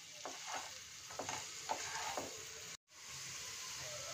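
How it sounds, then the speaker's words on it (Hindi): Boiled sweet potato frying in a pan after cumin, a soft steady sizzle with a few scraping stirs near the start, a brief dropout, then continuous gentle hiss. "ऐड कर देंगे बॉइल्ड शकरकंद को। 2 मिनट तक फ्राई करेंगे।"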